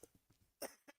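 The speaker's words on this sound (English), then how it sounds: "putting up with my coughs." A single person coughs several times in quick succession, short dry bursts close to the mic with one louder, harsher cough in the middle, in an otherwise quiet room.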